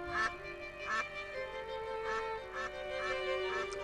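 A duck quacks in repeated bright nasal calls, loud and close, with short pauses between bursts and a steady tonal line underneath.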